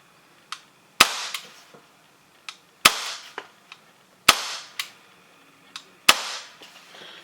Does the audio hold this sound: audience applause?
no